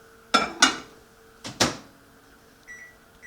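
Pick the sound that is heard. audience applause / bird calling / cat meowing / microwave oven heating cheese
microwave oven heating cheese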